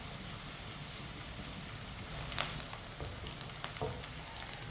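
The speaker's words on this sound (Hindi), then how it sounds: "प्याज को मैंने हल्का सा ब्राउन कर लिया है, 2 मिनट के लिए भून लिया है।" Onions fry and brown lightly in a pan while making chana dal with bottle gourd, giving a steady close sizzle with a few brief stirring clicks throughout.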